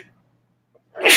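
A single sharp sneeze bursts out at the end after near silence, loud and close, preceded by a faint intake of breath.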